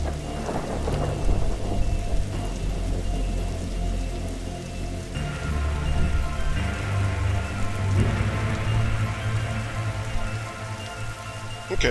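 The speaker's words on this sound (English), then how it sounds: "He must have seen the strange storm gathering over." A steady thunderstorm from The Darkside Detective video game, with rain hissing continuously on surfaces and low rolling thunder rumbling underneath, no voices.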